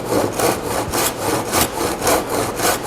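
A hand saw cuts through a piece of wooden trim that is too wide for a miter saw, making steady back-and-forth rasping strokes about twice a second, close and loud with no voices.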